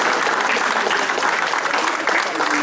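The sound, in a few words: audience applause for Danielle Caron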